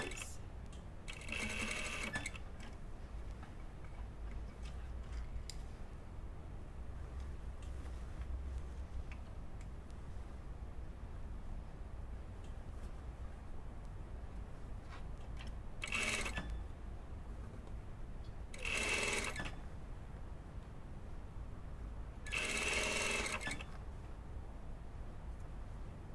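Sewing machine stitching gathered puff sleeves into a blouse, in short bursts: one run at the start, then three brief runs later, with quiet pauses between.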